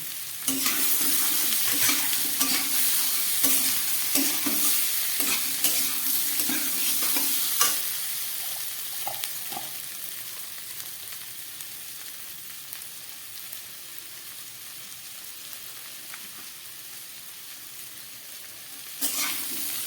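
Chickpeas frying in a pan with coriander powder and cumin powder, a steady hiss of sizzling oil broken by scraping, clattering stirs early on, then settling into a quieter continuous fry with a final clink.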